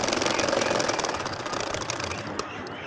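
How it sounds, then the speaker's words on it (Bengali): A sewing machine stitches a nakshi kantha quilt with a fast, even mechanical rattle that runs steadily and close throughout. "দেখেন আমি আরও একটা লাইনে একইভাবে সেলাই করে নিচ্ছি"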